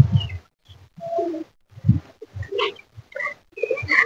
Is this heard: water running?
no